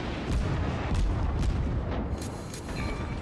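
Naval guns booming in a warships video game, a series of heavy, rumbling shots at roughly half-second intervals, dense and loud with a continuous roar of battle underneath.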